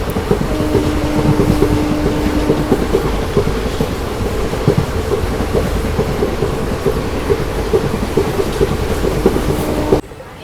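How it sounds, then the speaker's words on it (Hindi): The Amritha Express with ICF coaches runs at about 110 km/h, heard from inside as a loud steady roar with continuous rhythmic clickety-clack of wheels over rail joints and a faint whine. "अभी देखो लगभग अपने मैक्स स्पीड पे चल रही है अपनी ट्रेन 110 kmph पे"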